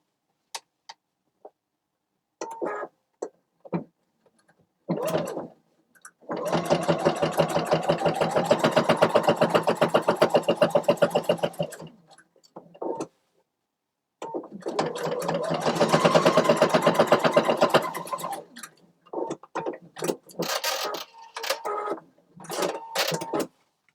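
A sewing machine stitching a fabric needle keeper runs in two long, loud, whirring bursts of rapid stitching, with short clicks and handling noises before, between and after the runs.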